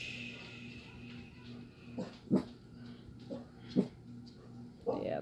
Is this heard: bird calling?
no